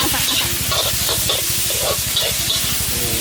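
Shrimp with holy basil stir-fried in a wok at a street food stall, a loud steady sizzle and fry with rhythmic metal scraping and clanking of the spatula.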